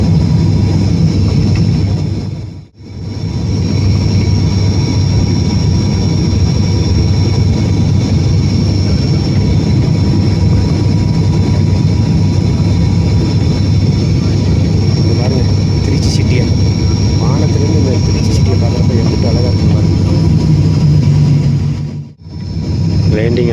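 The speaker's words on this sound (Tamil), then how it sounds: "கரெக்டாக பத்து அஞ்சுக்கு லேண்டிங் ஆகிருக்குங்க" A passenger airplane landing on a Chennai to Trichy flight, heard from inside as a loud, continuous cabin roar of engine and airflow, steady apart from two brief dropouts.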